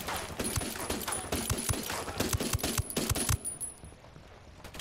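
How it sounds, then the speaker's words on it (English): Gunfire in Ghost Recon Wildlands crackles in quick, steady bursts with punchy low thumps, fairly close. It thins out and fades toward the end. "I'm opening fire on these shitheads."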